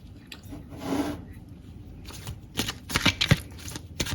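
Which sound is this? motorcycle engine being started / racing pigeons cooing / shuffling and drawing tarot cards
shuffling and drawing tarot cards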